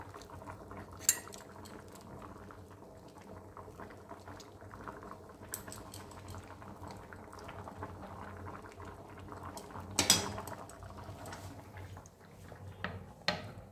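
Cutlery clinks against dishes while cooked ghugni, an oil-free potato and dried pea curry, is served, with a few sharp clatters standing out over a steady low kitchen background.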